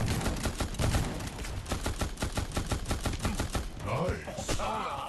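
The Fortuna machine gun fires in the shooter game Guns of Boom as a rapid, rhythmic string of sharp gunshot bursts for about four seconds, followed by softer mixed game effects.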